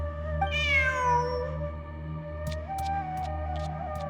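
A cat in the video game Genshin Impact gives one clear, drawn-out meow over a steady low hum of game ambience, followed by a few faint clicks.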